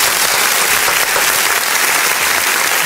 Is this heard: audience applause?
yes